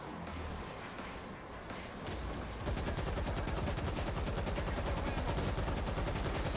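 Sustained rapid gunfire in the zombie shooter World War Z, a dense stream of automatic shots that starts after a brief quieter lead-in and keeps hammering loudly to the end.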